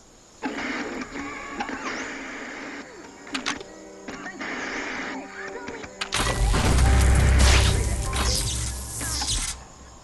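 Bolts being loosened in the Biomutant video game: steady mechanical whirring and clattering over tonal background music, swelling into a louder, denser grinding burst in the second half.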